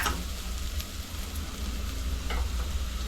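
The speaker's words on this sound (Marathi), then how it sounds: "सगळं ढवळून घेते." Chana dal with turmeric sizzles in a pan while being stirred, a steady close frying hiss with occasional scraping stir strokes and no talk.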